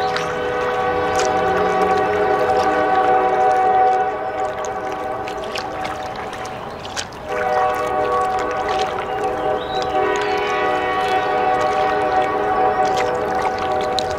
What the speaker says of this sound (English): a train whistle